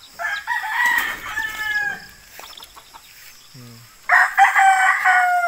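Young gamecock stags crow in a farm pen, several overlapping cock-a-doodle-doo calls ringing out at moderate distance, a pause with a brief cluck, then another strong burst of crowing near the end.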